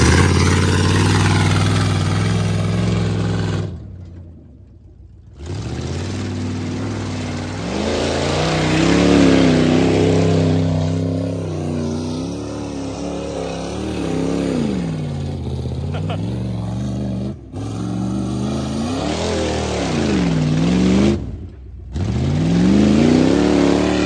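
Dodge car engine revving hard through a burnout outdoors, with loud sustained roars rising and falling and brief drops between pulls, a voice heard over it at times.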